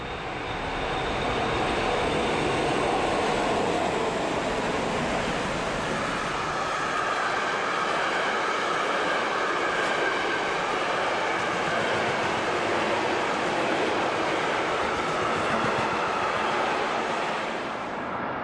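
An electric locomotive on banking duty near St. Jodok on the Brenner line rumbles past with a loud, steady roar, grinding and motor hum, sustained for the full stretch without speech.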